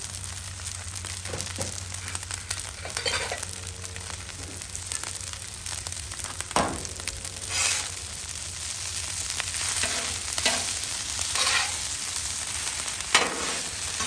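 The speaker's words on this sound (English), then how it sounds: "Mix those peas in." Partially thawed frozen green peas stirred into fried rice on a Blackstone griddle: steady close sizzle with scraping and stirring strokes throughout, no talking.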